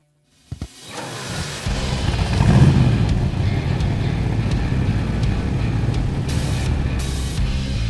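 A 1965 Burgundy Pontiac GTO muscle car drives along, its engine starting with a couple of sharp knocks before settling into a steady, loud low rumble that swells briefly and holds, with no talking.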